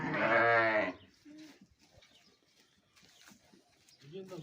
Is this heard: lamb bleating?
yes